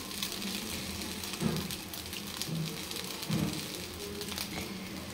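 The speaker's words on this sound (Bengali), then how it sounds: "টমেটো সসটাকেও চারদিকে আমি নেড়ে দিলাম।" Tomato sauce stirred in a hot pan, a steady soft sizzle and crackle with a couple of louder scraping bursts from the stirring.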